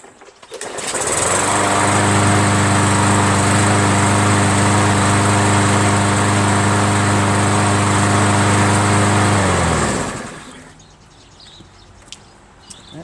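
A Briggs engine on an MTD 500E 21-inch push lawn mower runs loud and steady for about nine seconds, a constant droning roar, then cuts off abruptly and leaves a quiet background.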